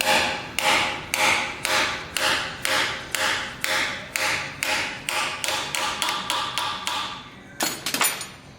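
Axle seal being driven into a Mopar 8 3/4 rear axle housing with a hammer: a steady series of about twenty sharp metallic taps, close and loud, speeding up toward the end before a final few quick blows.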